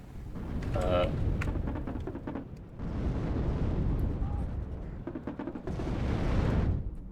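Bombs and shells burst in the real-time strategy game WARNO, producing heavy rumbling detonations in three long, low, roaring waves with short quieter gaps between them.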